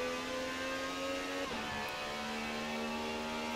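A Lamborghini Reventon engine drones at high revs during a race in Forza Horizon 4, a steady sustained tone that dips briefly at a gear change, then holds again.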